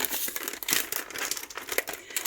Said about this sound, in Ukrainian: Відкриваю пакет із цукром.